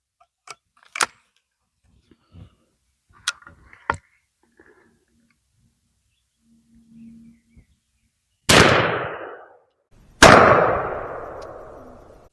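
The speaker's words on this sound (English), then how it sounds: "We'll shoot these Federals and see how they pattern on this 12 inch bullseye." Two loud shotgun blasts from a 2.5-inch .410 bore firing Federal Hi-Brass No. 6 game loads at a target 15 yards off, sharp reports with decaying tails after some quiet clicks and handling of the gun.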